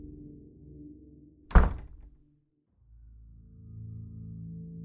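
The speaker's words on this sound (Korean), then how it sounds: "요란한 소리와 함께 문이 닫히고" Heavy door slammed shut in a horror radio drama, one loud booming thunk rising out of a low dark drone, followed by a brief dead silence before the ominous ambience swells back.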